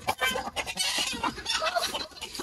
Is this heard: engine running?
no